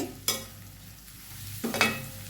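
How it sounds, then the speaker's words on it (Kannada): Onions with chili powder and garam masala are stirred in a pan over a simmering flame: two quick scraping, clattering strokes about a second and a half apart, with a low sizzle underneath and no voices. "ಎಲ್ಲ ಒಂದು ಚೆಂದ ಮಾಡಿ ಮಿಕ್ಸ್ ಮಾಡುವ."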